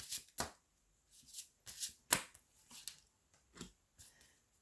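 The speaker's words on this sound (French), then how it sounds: "je vais tirer encore 3 cartes pour les autres balances" Tarot cards being shuffled and drawn: soft, close bursts of riffling and papery flicks in an irregular rhythm, quiet, with silence between them and no talking.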